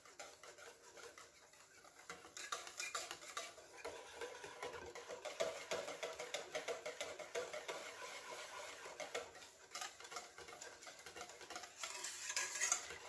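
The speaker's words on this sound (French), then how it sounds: "Donc vous mélangez bien avec le coulis et la gélatine." Faint, continuous soft stirring and scraping as strawberry coulis is mixed with gelatine in a bowl, a gentle rubbing texture that varies slightly in intensity throughout.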